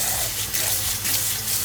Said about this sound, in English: by running some cold water